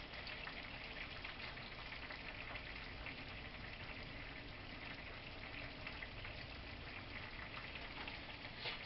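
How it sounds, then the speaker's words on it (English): Hot pepper linguine sauce simmering in a pan, a steady soft bubbling hiss that carries on evenly throughout with no talking. "And she's simmering good."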